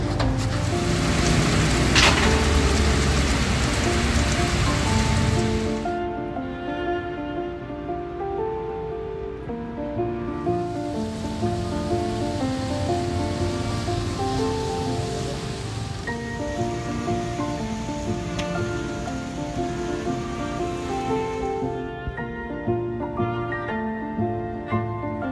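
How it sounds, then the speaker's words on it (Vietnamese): Afternoon rain falls steadily over a garden, a dense, even hiss of drops that stays loud and constant throughout, with no talk. "Ôi, chiều mưa rồi mọi người"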